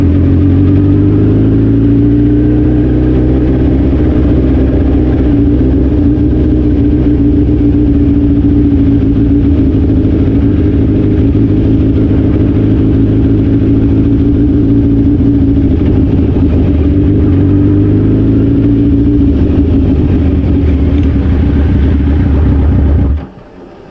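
Suzuki Hayabusa motorcycle engine droning loud and continuous while riding on the road, pitch shifting slightly with speed before cutting off abruptly at the end.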